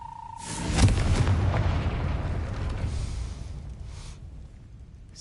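Confringo fire spell cast in the Hogwarts Legacy game, a loud booming blast that swells about a second in and rumbles on for several seconds before fading.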